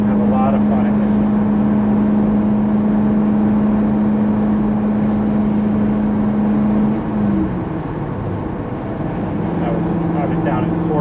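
A 2002 Corvette C5 Z06 engine drones steadily at a constant pitch during a test drive, then its tone shifts down as it changes gear, running loud and close throughout.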